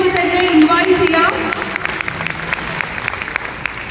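At a Palakkad wedding reception, guests applaud the newly married couple's entry: an anchor's amplified voice gives way to a scattered burst of clapping in a hall.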